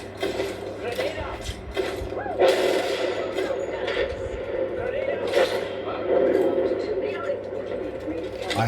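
Bursts of R99 submachine gun fire in a shooter video game, several rapid rattling volleys among other game effects, with a person talking over them.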